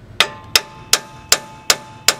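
Six sharp hammer strikes at an even pace on a 2006 Chevy Aveo outer tie rod or sway bar link, each a close, ringing metallic bang that fades quickly.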